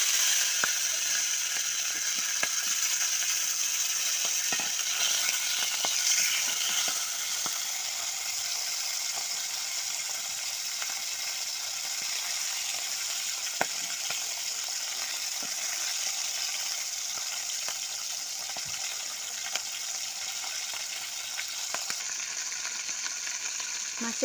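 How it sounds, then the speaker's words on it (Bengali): Fish heads fry in hot oil in a wok for a Bengali muri ghonto, a dense, steady crackling sizzle with occasional sharper pops and scrapes throughout. "তেল গরম হয়ে এসেছে, এবার কড়াই আমি আস্তে আস্তে মাছের মাথাগুলো ভেজে নিব।"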